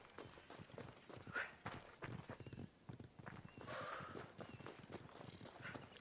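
Video game horse hooves in Assassin's Creed Odyssey: rhythmic clip-clop, steady and fairly close, with a brief snort or whinny mixed in.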